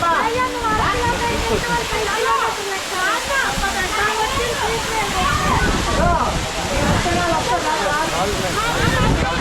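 Katiki waterfall in Araku valley roars as a dense, constant rush of falling and splashing water, loud and close, with voices faintly mixed underneath.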